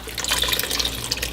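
Broth poured into a soup pot for creamy potato and leek soup, a steady close liquid splashing and gurgling that runs continuously for over a second with no talking.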